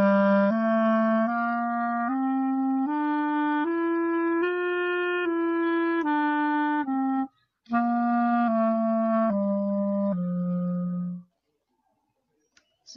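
A clarinet plays a scale slowly up and then back down, each sustained note clear and close, with one brief gap before the descent and silence at the end.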